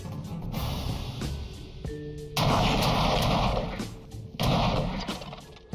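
An antique cannon fires in bursts, loud booming blasts with broadband roars, the strongest two arriving in quick succession amid some softer rumbling and clatter.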